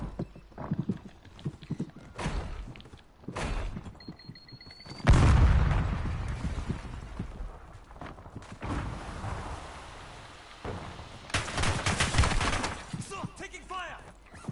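In the video game Warzone, scattered gunfire and impacts lead into a heavy explosion that booms up midway, followed by more sporadic bursts and crackling debris between quieter stretches.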